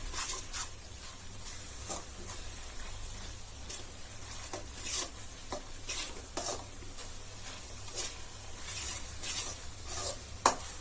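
Coriander powder stirred and fried in a pan for fish curry gives a steady, quiet sizzle, broken by soft scraping strokes of the spoon at irregular intervals.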